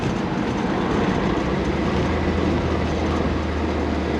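A loud old Jeep engine, parked for 15 years, runs continuously up close, a dense rumbling roar with loud rattling mechanical noise from the front of the motor and no pauses.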